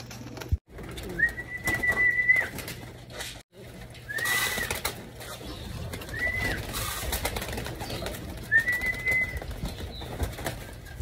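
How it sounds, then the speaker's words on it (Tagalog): Pigeons in a loft coo softly in a few short bursts while feeding, with a flutter of wings and faint rustling in a quiet space. "Ayan mga kalapatids, nakakatuwa naman kahit hindi natin masyado nakasikaso yung mga ibon natin, eh magana silang kumain."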